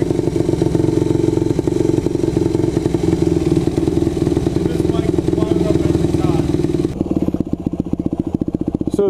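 A 2001 Yamaha WR250F supermoto running after a kickstart: a loud, close, steady single-cylinder thumping idle that keeps its rhythm throughout and changes tone slightly near the end.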